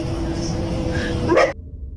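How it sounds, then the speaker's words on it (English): Street dogs bark and yip near the end of a brief stretch of steady background noise, a short burst of canine calls before the sound cuts off. "the barking of dogs"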